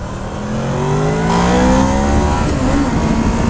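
A 2007 Honda VFR 800 motorcycle accelerates hard. Its engine note climbs in a loud, close whine that rises steadily through the revs, over a layer of wind rush and no talking.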